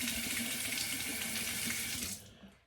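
Water runs steadily and loudly from a tap as a multi-blade razor is rinsed under it, then the flow cuts off near the end.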